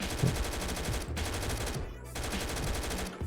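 Sustained automatic gunfire aimed at monsters in SCP: The Red Lake, a dense, loud stream of rapid shots filling the whole stretch, with only a brief lull around the middle.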